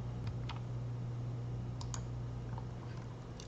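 A few soft mouse clicks during SolidWorks CAD modelling, quick and close, sitting over a steady low electrical hum.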